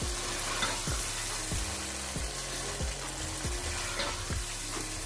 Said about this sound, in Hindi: गाजर को ऐड करने के बाद हम तकरीबन इसको 2 मिनट तक अच्छे से भूनेंगे